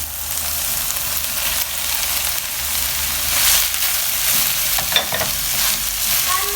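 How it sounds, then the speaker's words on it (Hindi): Grated, squeezed radish is stirred into a frying pan with green onion and ginger, making a steady close sizzle with scraping and stirring noises throughout, no talking. "अब हम इसमें डाल देंगे ग्रेट हुई और निचोड़ी हुई मूलियाँ।"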